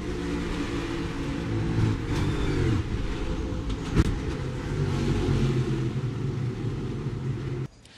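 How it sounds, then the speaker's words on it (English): Joey Logano's NASCAR race car at Indianapolis, heard onboard, roars with a steady engine drone and rumble, shifting pitch as it accelerates, with a sharp bang before the sound cuts off at the end. "Here's Joey Logano's ride. Let's listen."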